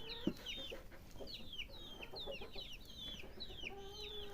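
Several chickens cluck and chatter in quick, overlapping bursts at feeding time, fairly close by, with no voices.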